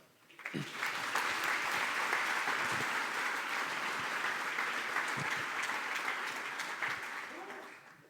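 An audience applauds to welcome a speaker onto a conference stage: sustained, even clapping that swells quickly, holds steady for several seconds, then tapers off near the end.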